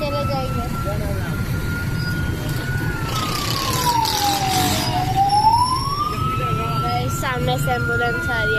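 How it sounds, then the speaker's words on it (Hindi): An ambulance siren wails along a road, one sweeping tone that dips and rises as it nears, loud over steady traffic rumble and street bustle, with people talking nearby. "सामने से एम्बुलेंस आ रही है"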